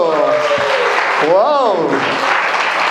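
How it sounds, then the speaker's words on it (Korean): Congregation applause during an intergenerational Sunday worship service at a Korean church, a broad clapping wash sustained under prominent voices calling out and exclaiming over it. "박수."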